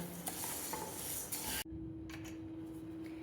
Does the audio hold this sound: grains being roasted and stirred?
yes